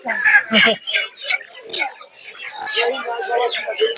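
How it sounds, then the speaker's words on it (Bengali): Native desi chickens clucking and squawking at a duck, chicken and bird market, close and lively, mixed with someone talking and market chatter. "এগুলো হচ্ছে দেশি মুরগি"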